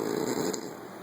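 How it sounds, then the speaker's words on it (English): A man snoring with a clicky, rattling catch, one short soft snore breath heard close and alone in a quiet room. "With his clicky snore."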